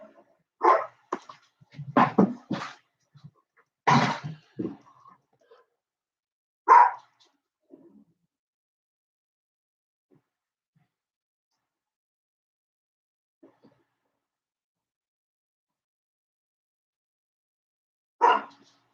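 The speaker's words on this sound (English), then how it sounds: "There we go with that barking." A dog barks in a quick burst of several sharp yips, then a single bark, a long quiet pause, and one more bark near the end.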